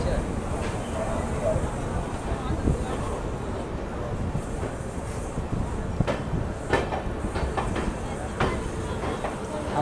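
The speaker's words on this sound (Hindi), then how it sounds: "अपनी ट्रेन की डिपार्चर हो चुकी है पटना जंक्शन से" The 22361 Amrit Bharat Express rolls along after leaving Patna Junction, a steady rumble with faint clattering and occasional knocks heard from on board, with a voice talking over it.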